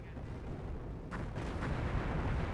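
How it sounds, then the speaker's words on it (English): Distant artillery fire rumbles through a Company of Heroes 1 battle between British and Wehrmacht forces, a low continuous roar with a sharper boom near the middle, no voices over it. "I hear register artillery somewhere"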